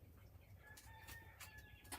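Rooster crowing and hens clucking, a farmyard chorus of repeated crows and short clucks at moderate distance, with no talk.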